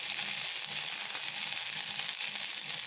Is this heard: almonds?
yes